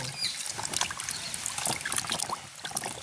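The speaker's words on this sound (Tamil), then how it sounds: "இப்படியே நாங்கள் ரெண்டு மூணு தண்ணியில் கழுவி எடுப்போம்" Water splashes and sloshes in quick, irregular bursts as tubers are scrubbed and rinsed by hand close up, with soft knocks and trickles.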